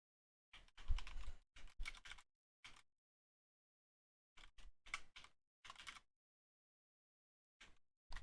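An address is typed on a computer keyboard in quick clattering bursts of keystrokes separated by silent pauses, close and fairly quiet.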